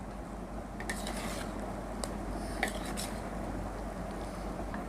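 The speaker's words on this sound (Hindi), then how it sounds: "इसको अच्छी तरह ऐसे मिक्स कर लेंगे।" Creamy fruit chaat being stirred in a bowl with a spoon, a steady soft wet churning with occasional sharper clinks of the utensil against the dish, close and fairly quiet.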